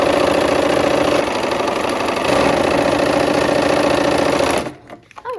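Loud, fast, continuous whirring and stitching of a sewing machine running close up while quilt rows in blue and white are sewn, stopping abruptly near the end.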